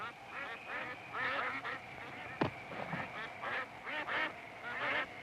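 A flock of geese honking continuously at moderate distance, overlapping nasal calls in irregular bursts, with one sharp thud partway through.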